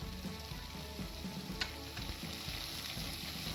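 Beef sautés in a pan with a dense, even, quiet frying hiss, marked by a single light tap partway through.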